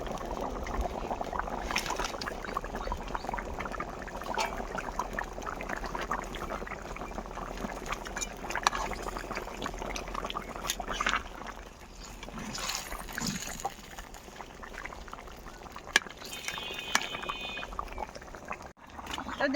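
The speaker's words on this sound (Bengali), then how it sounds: "তো দেখুন বন্ধুরা, ঝোল ফুটে উঠেছে" Curry broth in a pot boils continuously for a long stretch, a soft, steady bubbling and simmering with occasional small pops and clicks, no voices.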